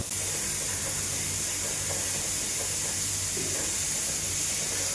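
A steady, unbroken hiss of escaping steam from a pressure cooker of dal venting on a gas stove, constant and fairly loud with a low hum beneath.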